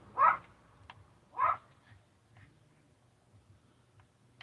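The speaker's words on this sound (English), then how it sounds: "those dogs are so annoying. They're literally only barking at me now because they can hear me talking." Dogs barking in a Minecraft Bedrock game world, two sharp barks about a second and a half apart followed by fainter scattered yips, fairly close and alone.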